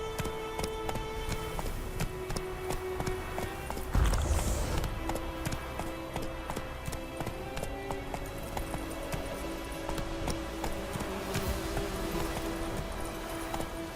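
Horse hooves gallop in a steady rapid clip-clop rhythm while riding in The Witcher 3: Wild Hunt, with a brief loud burst partway through and game music sustained underneath.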